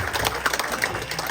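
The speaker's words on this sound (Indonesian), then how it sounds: "jadi tepuk tangan buat Bapak Sabto." A short burst of applause from a small crowd, steady clapping at moderate volume with no voices standing out.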